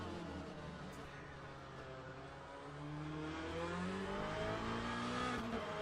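A race car in the sim racing game Le Mans Ultimate brakes into a corner and then revs back up, its engine note dropping and rising again, moderately loud and continuous with no pause.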